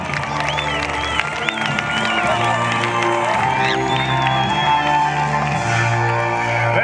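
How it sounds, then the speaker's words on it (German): Crowd cheering and applauding for mounted knights at a night tournament in Königstein, a dense, continuous roar of voices and clapping with whoops over it, loud and steady throughout. "mit einem schallenden Jubel und Applaus, willkommen die Herren hoch zu Ross"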